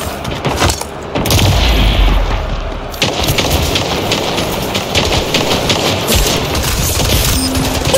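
Rapid automatic gunfire bursts in the first-person shooter Splitgate, loud and continuous, with dense crackling shots and game effects filling the whole stretch.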